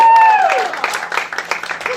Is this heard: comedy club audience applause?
yes